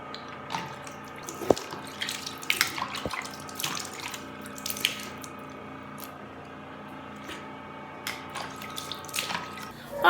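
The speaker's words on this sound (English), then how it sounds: "So you're just gonna pour water, and it's just gonna be coming down like that." Water is poured and trickles down as part of a skin treatment preparation, a close, continuous gentle running and dripping with small splashes and squishy sounds.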